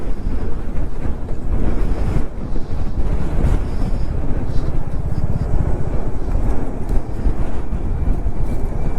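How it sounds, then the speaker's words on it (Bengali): Strong, continuous wind roars and buffets the microphone during a dust storm on the Yamuna Expressway between Kanpur and Delhi, heard on a solo motorcycle ride, loud and unbroken throughout. "আরে বাবারে ধুলোর ঝড় উঠছে"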